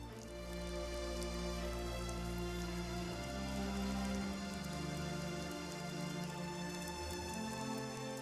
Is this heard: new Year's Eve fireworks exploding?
no